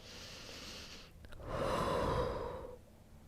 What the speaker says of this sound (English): One more full breath here.